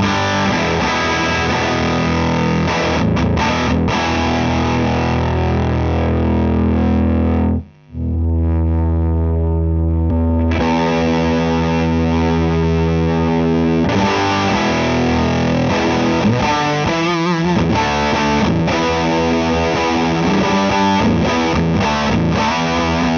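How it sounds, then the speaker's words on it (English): A loud, heavily distorted electric guitar through a high-gain amp and a Fane A60 Alnico 12-inch speaker plays chords with a fizzy, buzzing edge and hum, pausing briefly midway before ringing on. "you start to hear a little bit more fizz from the amp here, a little bit more hum"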